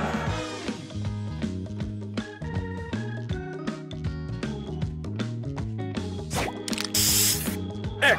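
A Match Master mobile game plays its spray booster effect, a bright hissing burst that rises over busy, tonal game music and chimes, loud and close for about a second near the end.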